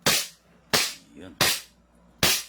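A 1911-style airsoft pistol firing four sharp, loud, close shots at roughly even intervals of just under a second, each a crisp crack that decays quickly, with no talking over them.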